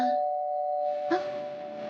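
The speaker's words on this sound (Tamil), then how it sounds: "என்ன ஃபோன் ரிங் அடிக்கும்னு பார்த்தா காலிங் பெல் அடிக்குது" A calling bell rings at a home's door in a Tamil TV serial scene, a short electronic chime standing out over a steady hum, with no talk during it.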